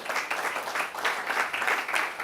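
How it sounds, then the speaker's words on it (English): An audience at a conference session on adaptation in food systems applauds, a dense, moderately loud patter of many hands that rises and falls in uneven waves for a couple of seconds. "So we can applaud"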